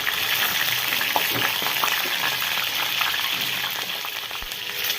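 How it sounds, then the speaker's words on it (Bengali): Eggs frying in hot oil for an egg and pumpkin bori dish, a steady close hiss of sizzling oil with a few light clicks of stirring. "ডিমগুলো তেলের মধ্যে দিয়ে দুই তিন মিনিট ভেজে নেবেন"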